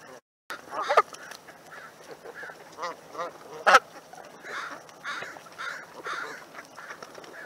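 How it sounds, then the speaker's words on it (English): Mallard ducks, hens and drakes, quack in a series of raspy calls outdoors, some close and some farther off, with a sharp louder burst partway through and quieter calls scattered between. "Mallard hens, mallard drakes, we got hybrid mallards,"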